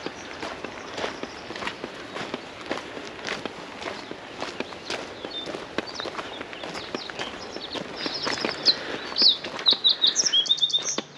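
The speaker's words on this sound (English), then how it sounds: "the birds are happy" Birds on the Portage Pass trail in Alaska chirp and trill in short bursts, growing livelier toward the end, over the crunch of footsteps on the path.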